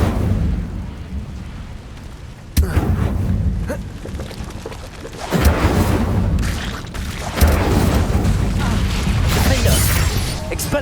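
Incendio fire spells blast in a Hogwarts video game, with loud booming whooshes at several points over a constant rumbling roar of combat.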